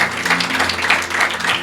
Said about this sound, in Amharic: ለጌታ በደንብ አጨብጭቡልኝ።